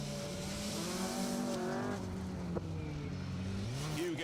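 A rally car, car 31, runs a stage of the 2025 SMC Stages Rally in the Protyre Circuit Rally Championship, its engine droning and shifting pitch at a distance, with a brief tyre scrub midway.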